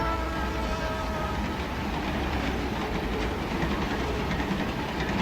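A train rolls steadily past near a railroad bed in deer country, a loud continuous rumble with rhythmic clickety-clack of wheels over rail joints and no voices.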